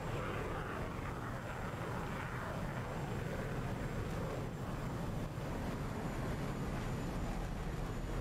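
An aircraft lands through smoke, its engine giving a steady, loud, broadband roar mixed with wind buffeting that holds unbroken throughout.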